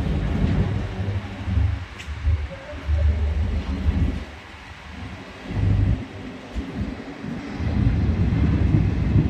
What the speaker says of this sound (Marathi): पहिल्यांदाच पाहू शकतात तुम्ही गाडी आलेली बा नगरवरून अंबळनेर रेल्वे स्टेशनवर पाहू शकता